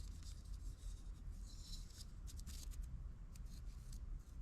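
Scissors cut cotton crochet thread, making a few quick, faint, crisp snips close by over a low steady background hum, with no talking.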